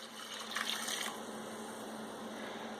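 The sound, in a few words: red wine blend poured into meat sauce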